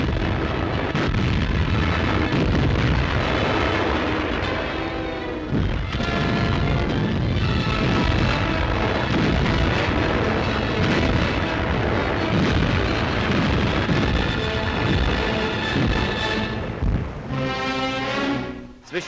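Shelling by heavy German naval guns during 1944 wartime fighting, dense rumbling booms and explosions rolling continuously and loudly, with a brief lull midway and a droning tail at the end.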